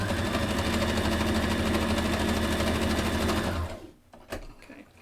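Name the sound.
sewing machine stitching fabric over pins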